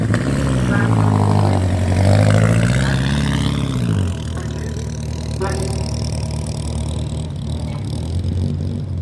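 At Brooklands, a vintage Sunbeam Grand Prix racing car is push-started and its engine rumbles and revs loudly nearby, then settles into a lower running note, while someone talks over it.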